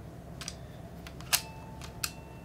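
A vintage camera's shutter is worked in a few faint, sharp mechanical clicks spread over two seconds, the loudest near the middle, against a quiet room.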